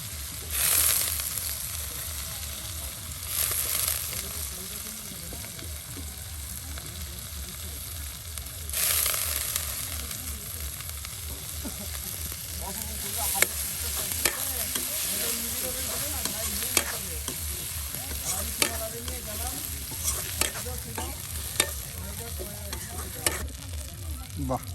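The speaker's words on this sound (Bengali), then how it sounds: "দেখুন পেঁয়াজ রসুনগুলো ভেজে নিয়ে এখন মলা শুটকিগুলো কিন্তু একসাথে ভেজে নেওয়া হবে" Dried mola fish sizzling in a pan with fried onion and garlic, a steady frying hiss under repeated stirring and scraping scrapes, with sharper clicks and crackles later on.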